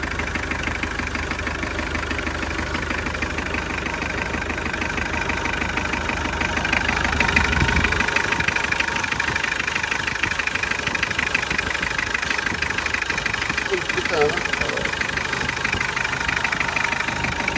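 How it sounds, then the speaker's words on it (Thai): A cheap used car with a 2-litre engine idles, a continuous close, loud mechanical rumble with an even ticking beat, holding steady throughout with no talk. "เครื่องแน่นเปี้ยเลยครับผม"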